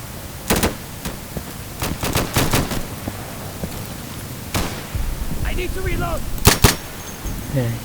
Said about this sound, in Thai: ได้ยินเสียงปืนทางนี้ครับ